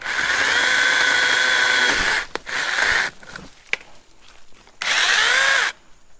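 A Sainlogic 21V mini battery chainsaw cuts branches while trimming a trail, its loud steady whine running in bursts of about two seconds and one second, with quiet gaps and a click between cuts.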